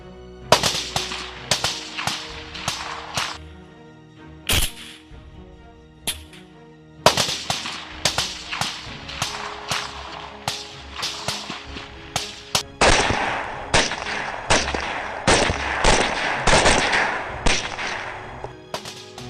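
Repeated sharp gunshots from 6.5 Creedmoor R10 rifles with thermal sights during a night wild boar hunt, loud cracks in irregular bursts with dense rapid strings later on, no talk.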